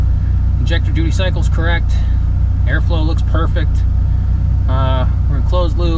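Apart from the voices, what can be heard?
tuner car engine idling after sitting a year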